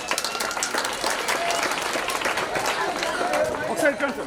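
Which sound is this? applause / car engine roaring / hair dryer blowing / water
applause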